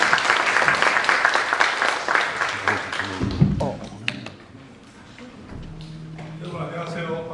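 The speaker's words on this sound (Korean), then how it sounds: "여러분의 큰 박수로 시작하도록 하겠습니다" Strong audience applause opens a public hearing on a village enterprise support law. The clapping is loud and dense, then thins out and fades after about four seconds, leaving room noise, some handling and a little voice near the end.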